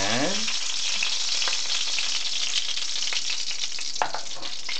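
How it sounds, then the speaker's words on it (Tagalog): Oil sizzling steadily in a kawali frying pan, a continuous bright hiss with faint crackles and one sharper pop near the end, close and alone with no talking. "lagyan na naman natin ng oil ang ating kawali"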